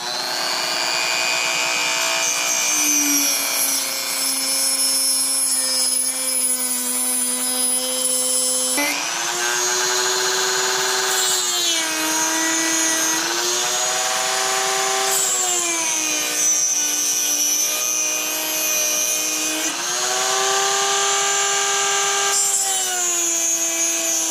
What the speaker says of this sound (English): just going to outline it with the Dremel